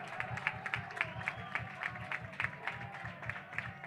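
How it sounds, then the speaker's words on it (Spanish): A crowd of CD Azuaga football fans claps in a steady rhythmic beat at a match against Extremadura UD B, with voices chanting along in the background. "La afición de la Azuaga aplaudiendo a Torralbo"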